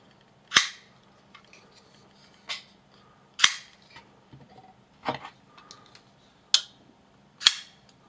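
A Shirogorov Hati Gen 3 folding knife with red technocarbon scales is flicked open over and over. Each opening gives a crisp, sharp snap, about six in all at uneven intervals, with faint fiddling clicks between them.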